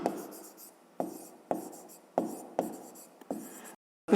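Pen writing a math formula on paper: a series of short scratchy strokes in a regular rhythm, close and fairly clear, ending with a brief pause and a final tap.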